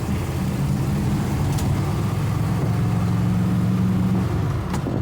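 Engine of a 1959 Ford Skyliner pulling hard under acceleration on a test drive, a steady loud low drone that rises slightly in pitch throughout, heard close from inside the car with no voices.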